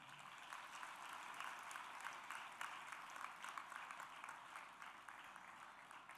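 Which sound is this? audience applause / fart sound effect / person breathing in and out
audience applause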